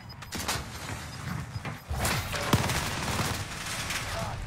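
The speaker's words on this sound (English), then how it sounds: "Oh, I'm getting sniped at." Video game gunfire breaks out in a match with sniper fire, scattered shots and bursts of rapid fire at mid distance, with a sharp crack near the middle, mixed with game noise and faint background voices.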